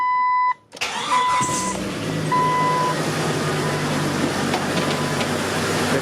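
A cold Jeep XJ engine cranks and fires up after a brief silence, then settles into a steady, loud, close idle with a continuous mid-range hum and faint whining tones.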